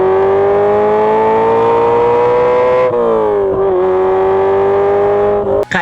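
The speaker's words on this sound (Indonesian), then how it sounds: "lu bisa menikmati suara dari mesin V8 yang kedengarannya" A Ferrari 308 with a removable targa roof and a V8 engine drones loudly and steadily up close, then its pitch dips and wavers around midway before a brief sharp burst at the end, with no talking.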